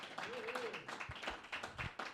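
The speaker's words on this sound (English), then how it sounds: "let's give each other another round of applause to end our evening." Club members at a Toastmasters 50th anniversary evening give a round of applause, a modest, fairly quiet patter of scattered hand claps in a small room, with voices and chatter mixed in.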